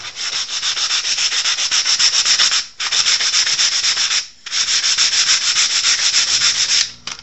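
Wood sanded by hand with 220 grit sandpaper: loud, close, rhythmic scrubbing strokes in three long runs separated by two brief pauses, with no voices.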